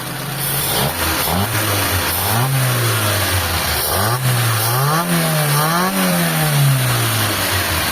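A Mitsubishi Lancer engine, recently repaired, is revved repeatedly from idle, its pitch rising and falling in several swells, loud and close with a steady mechanical hum underneath and no talking.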